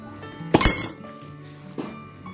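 Coins dropping off a card into a glass during a school science demonstration, a bright clattering clink followed by a second, fainter clink about a second later, close and clear over a quiet room.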